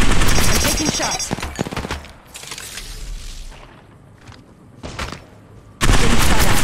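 Rapid gunfire bursts from Apex Legends Mobile, loud and dense at the start, easing into quieter scattered shots and thumps, then a sharp loud burst returning at the end.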